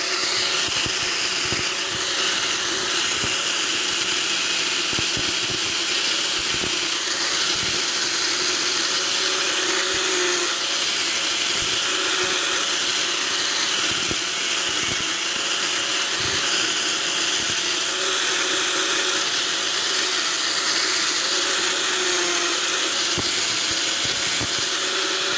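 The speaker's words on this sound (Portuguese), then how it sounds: "você pode pegar isso aqui, um disco flap, e aqui mesmo você desbasta" A power grinder with a flap disc runs steadily on metal for the whole stretch, a loud, continuous abrasive whine and hiss with no pauses.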